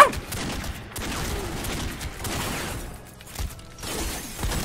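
Snub-nose revolver fire in The Godfather video game, a rapid run of loud, close shots blending into a busy, clattering burst of combat noise with no pause.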